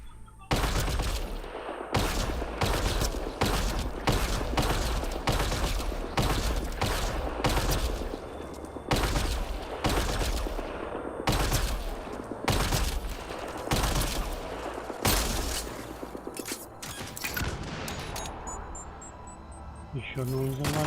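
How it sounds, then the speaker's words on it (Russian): Bursts of machine gun fire in the Mass Effect: Andromeda shooter come as rapid, loud strings of shots separated by short pauses, repeating many times over the stretch, with someone talking in between. "Это пулемет, это не снайперская"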